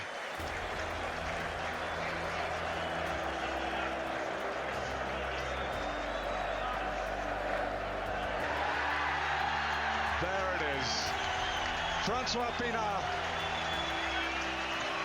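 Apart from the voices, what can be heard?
stadium crowd cheering and applauding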